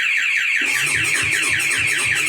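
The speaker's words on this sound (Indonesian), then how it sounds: "Kalau masih berfungsi harusnya bunyi alarmnya." A V12 aftermarket alarm fitted to a Honda CB150R motorcycle blares loudly and close, a rapid repeating electronic warble with pulsing siren tones, continuous throughout.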